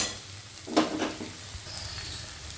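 Banana flower curry frying in a pan as it is stirred, a close scraping sizzle with a couple of quick strokes early on, then a quieter sizzle that fades out.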